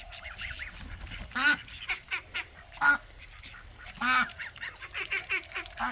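Geese and ducks at morning breakfast give a run of loud, nasal honks and quacks, several big calls spaced a second or two apart with smaller chatter between, close by and outdoors with no talk.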